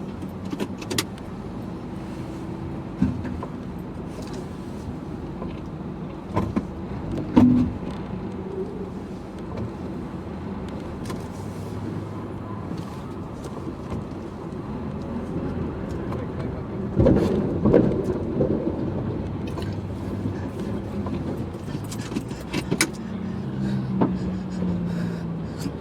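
A car engine idles and runs steadily while the vehicle backs up, with brief bumps and clunks and faint voices in the background.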